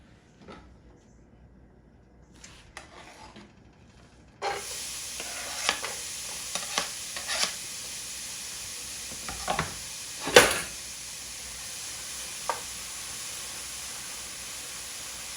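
Chopped onions hit hot oil in a frying pan for an Ethiopian egg bread breakfast. After a few seconds of quiet, a steady close sizzle starts and runs on, broken by scattered utensil clinks and one sharper scrape.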